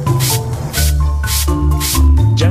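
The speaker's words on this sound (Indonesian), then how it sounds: "Ayo gerakan botol penyemprot di atas temuan untuk mencucinya." A spray bottle washing dinosaur fossil finds, repeated loud bursts of hissing spray close by, about five sprays in quick rhythm over a cartoonish musical backdrop.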